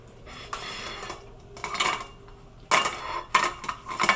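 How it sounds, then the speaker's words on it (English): Limes being zested with a handheld zester for a dairy-free key lime filling: quick, scratchy rasping strokes in a few separate bursts, close and fairly loud, with no talking. "So I start out with the zesting."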